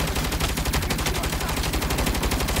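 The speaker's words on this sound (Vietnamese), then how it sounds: "Ngon, có súng máy rồi anh em." Rapid machine gun fire in the video game Saints Row, a dense nonstop burst of fast, loud, even shots lasting the whole stretch, with no voices over it.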